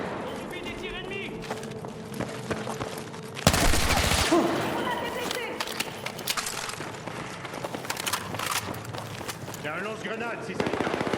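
Rapid bursts of automatic gunfire and sharp shots crackle through a Battlefield 6 campaign battle, with a loud blast near the middle, while voices speak over the combat.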